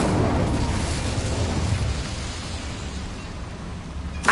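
Incendio fire spell cast in Hogwarts Legacy: a loud, close burst of roaring flame that rumbles and crackles, then slowly fades over several seconds, ending with a sharp brief pop, with no voices.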